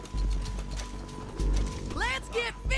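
Horse hooves clip-clop in the video game Red Dead Redemption 2, heavy thuds mixed with clanking tack and mechanical rattles, while someone speaks briefly near the end.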